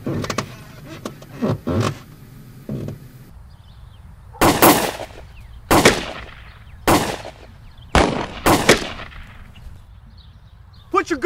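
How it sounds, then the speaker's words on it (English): Gunfire rings out in a scene from the 2010 feature film HavoK. First a brief exchange of talk, then about half a dozen loud, sharp, widely spaced shots that crack and decay one after another. "I've got shot fired. I'm requesting backup right now."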